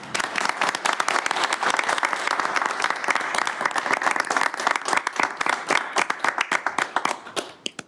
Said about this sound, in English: Maybe one more applause.